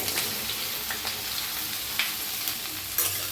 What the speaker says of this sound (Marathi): पहिलं आपण भेंडी भाजून घेऊया